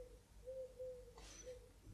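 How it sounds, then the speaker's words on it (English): Owls calling from a nearby owlery in a Harry Potter-themed setting, heard as a few soft, low hooting coos, faint and steady over quiet room tone, with no talking. "can you hear the owls from the owlery?"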